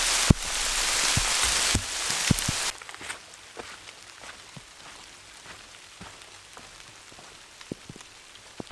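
Heavy monsoon rain drums steadily on a rain jacket during a backpacking hike, loud and dense at first and then easing into lighter scattered drops with occasional sharper close hits.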